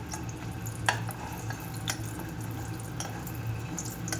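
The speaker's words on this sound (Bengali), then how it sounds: "এই যে বড়িগুলো ভেজে নিচ্ছি" Bori, small lentil dumplings, fry in oil in a home kitchen pan with a soft, steady sizzle, faint throughout and broken by a few light pops and ticks.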